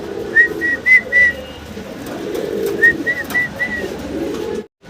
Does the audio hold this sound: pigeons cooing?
yes